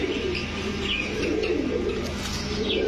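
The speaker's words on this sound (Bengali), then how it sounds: "হাঙ্গেরিয়ান বুদাপেস্ট এটাও একটা নর কবুতর" Male Hungarian Budapest pigeons coo in a steady, overlapping low rumble, close by and continuous, with faint chirps from other birds in the background.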